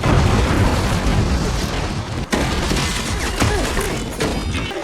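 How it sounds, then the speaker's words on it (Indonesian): Dynamite bait blowing up as a shark bites it in a tsunami film, a loud, dense, roaring blast with rumbling debris that carries on throughout. "seekor hiu menggigit umpan daging dinamit. Hingga akhirnya, hewan itu pun terkena ledakan"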